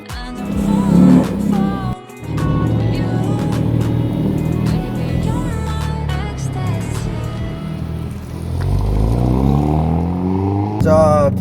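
Cars pulling away on a race track, engines revving and rising in pitch as they accelerate, loud and close, with a commentator talking over them.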